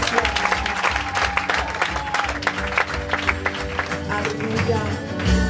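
Church congregation clapping together during a French-language service, a steady dense patter of many hands filling the room for several seconds.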